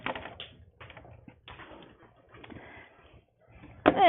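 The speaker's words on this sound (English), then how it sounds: "if we type that into our calculator" Fingers tap numbers into a calculator in quick, irregular bursts of light plastic key clicks with short pauses between, before a voice begins speaking at the very end.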